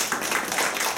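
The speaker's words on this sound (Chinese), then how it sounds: "来掌声鼓励一下" Audience at a marketing lecture applauding, a brief, close burst of dense clapping.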